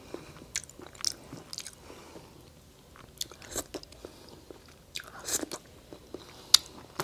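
Someone bites and chews Canadian lobster dipped in cheese sauce, producing quiet, close, irregular crunches and crackles of shell and meat spread across several seconds with no talking.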